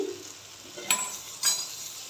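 Boiled corn kernels sauté in butter in a pan, a quiet steady sizzle marked by two distinct spatula scrapes about half a second apart.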